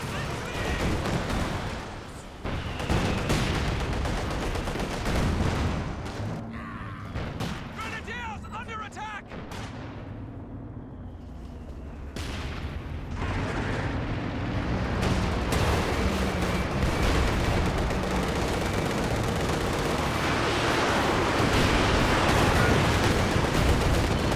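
Nebelwerfer rocket artillery firing in Company of Heroes 2 during a 3v3 battle with heavy tanks, a dense roar of launches and blasts rolling continuously through the clip with a brief lull midway, under steady battle noise and a commentator's voice.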